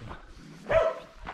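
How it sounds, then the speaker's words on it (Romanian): A small dog gives a few short barks, one louder yip standing out in the middle, fairly close, between quieter sounds. "Cățel!"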